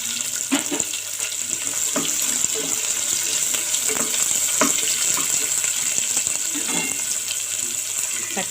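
Onion frying in a pan with spices while coconut rice is cooked, giving a steady close hiss and sizzle with scattered crackles and pops throughout.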